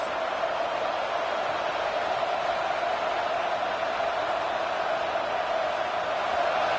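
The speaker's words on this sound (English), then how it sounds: "Decibels rising as the crowd gets behind this defense on third down" Football stadium crowd on third down, a dense, constant roar of many voices holding steady at a distance for several seconds with no breaks.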